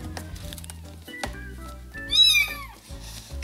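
Young kittens meowing indoors, a few thin high-pitched mews with one louder rising cry near the middle, close to the listener over quiet background noise.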